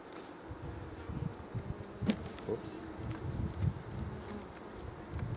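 Honeybees buzzing in an open hive during an inspection, a dense continuous drone that rises and falls close at hand, with one brief spoken word over it.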